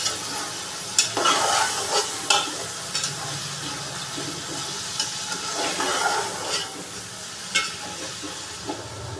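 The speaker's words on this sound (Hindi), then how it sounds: "इन दोनों सब्जियों को हल्का सा भून लेंगे 2 से 3 मिनट के लिए।" Potatoes and peas being stir-fried in a pot, continuous sizzling broken by repeated scraping and clanking strokes of a spoon, close and fairly loud.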